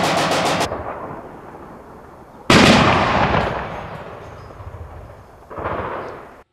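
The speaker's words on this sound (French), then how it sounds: "Il tire à la mitrailleuse." Machine gun fire during combat in Bosnia, heard as a rapid burst of close cracks at the start, then a heavy booming blast with a long rumbling decay and a further muffled boom near the end.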